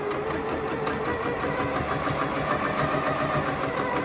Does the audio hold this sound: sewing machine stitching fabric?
yes